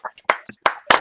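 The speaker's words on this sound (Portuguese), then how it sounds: "convido a todos a abrirem seus microfones para a gente dar uma salva de palmas para a Fernanda" Participants in an online meeting clapping through their open microphones, a few uneven, close claps in quick succession, each clipped and separated by silence.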